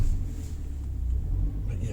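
A 2013 Suzuki Grand Vitara engine hums in a low, steady rumble from inside the cabin while driving, constant throughout with no clear revving.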